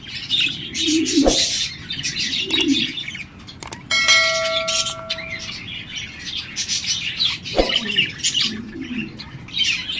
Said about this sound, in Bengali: এখানে দেখতে পাচ্ছেন এক জোড়া জাপানিজ বাজরিকা রয়েছে, ডাবল ফ্লাওয়ার।